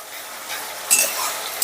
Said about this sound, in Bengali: এবার আদা রসুন আর পেঁয়াজটাকে বেশ ভালো করে 7 থেকে 8 মিনিটের মতন কষে নেব